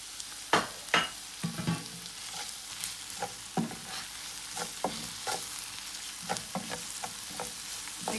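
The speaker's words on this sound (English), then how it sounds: "my onion has started to soften, so what I'm going to do is add in some salt at this point" Onions soften in a frying pan with salt added, a low continuous sizzle broken by repeated scraping strokes and taps of a utensil, moderately close with no talking.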